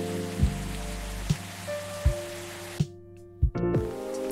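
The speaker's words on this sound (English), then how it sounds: "It's raining pretty hard today." Steady heavy rain from the game Coffee Talk patters over the scene, a constant wash under low musical tones, with a few soft thumps and a brief drop-out near the end.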